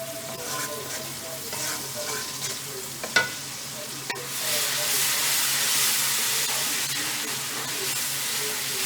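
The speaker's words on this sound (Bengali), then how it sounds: "শুটকিটাও ভাজা হয়ে যাবে পেঁয়াজের সঙ্গে সাথে" Dried fish frying with onions in a pan, a steady sizzle with stirring scrapes and a few sharp clinks, the hiss swelling louder and broader halfway through; no talking.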